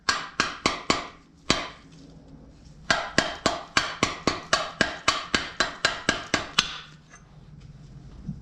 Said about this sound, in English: a soft hammer. And we're going to go ahead and hammer out this rear stationary gear right here.